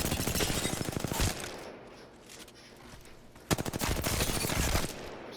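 Rapid automatic gunfire from a gun in Apex Legends fitted with a barrel stabilizer, two loud sustained bursts of fast rhythmic shots separated by a quieter gap, with no talking.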